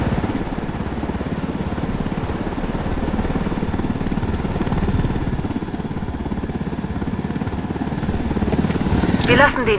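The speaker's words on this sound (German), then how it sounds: "Ja, das eine da drüben ist ein Helikopter." A helicopter in the video game Ghost Recon Wildlands, its steady rotor and engine drone filling the mix at a fairly loud, constant level, with a brief sharper burst near the end.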